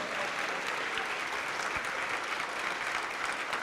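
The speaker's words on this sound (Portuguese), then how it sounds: "vamos aplaudir mais ao Senhor Jesus" A church congregation applauds at a Portuguese-language evangelical service, a steady wash of many hands clapping at moderate distance, continuous and even with no clear speech.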